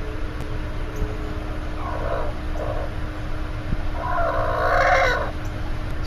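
Chickens give a few short clucks near the middle and a louder, longer burst of clucking toward the end, set against steady low background hum.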